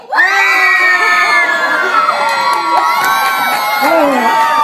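A hypnotized audience at a stage hypnosis show shrieks and shouts with joy, loud overlapping high-pitched screams and whoops from many voices sustained for several seconds.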